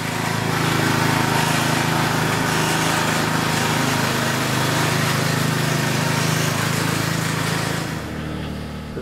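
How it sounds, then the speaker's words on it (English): A DR Power Wagon motorized wheelbarrow's small engine runs steadily and loudly up close with a constant droning hum, then drops in level near the end as it eases off. "it's kind of handy to have a small machine like this DR Power Wagon"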